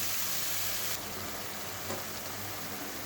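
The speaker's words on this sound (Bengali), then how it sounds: "মশলাটা আমি ভালো করে কষিয়ে নিই।" Masala of cumin paste and cumin powder frying in a pan for ghugni, a steady loud broadband sizzle that runs unbroken throughout, easing slightly partway, with no voices.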